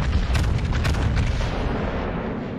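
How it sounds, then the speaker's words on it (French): Heavy ship cannon fire in a video game booms continuously, with dense overlapping blasts and rumbling that stays loud throughout. "allez, allez les canons"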